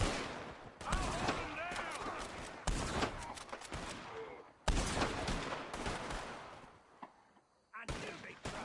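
Shots ring out in a western gunfight in Red Dead Redemption 2, as dense bursts of rapid gunfire with clattering echoes fill several stretches, broken by brief lulls, with voices shouting beneath the shooting.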